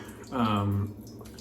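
A short rush of running water rinses a razor under a tap, rising for about half a second and then cutting off, fairly quiet against a faint room background.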